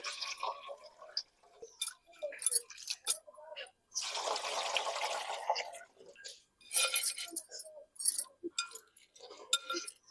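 Local crabs are washed by hand in water, with irregular splashes, sloshing and drips broken by short pauses, close and moderately loud, including one longer stretch of steady pouring water.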